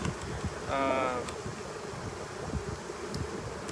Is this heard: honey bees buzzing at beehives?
yes